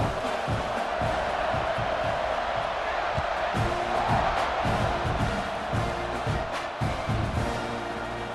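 A football stadium crowd roars and cheers continuously around a kickoff, a dense, loud wall of voices with shouts and whoops rising out of it, sustained throughout without letup.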